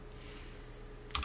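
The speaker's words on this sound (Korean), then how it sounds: "키보드 소리 들리시죠 키보드를 이용해서 조 게임을 할 수가 있습니다" Computer keyboard used to play a text-based ball-catching game gives a brief burst of key clicks near the end after a quiet, steady room hum.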